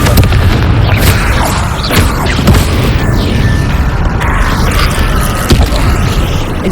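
Confringo fire-blasting spell exploding in Hogwarts Legacy combat: loud booming impacts over a continuous rumbling roar, with scattered crashes and crackles across several seconds.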